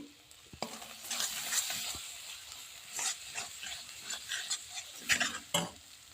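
Paneer gravy being stirred in a pan after two green chillies go in: a soft sizzle runs under irregular scraping and clacking strokes of the spoon, close and fairly quiet, with no voices.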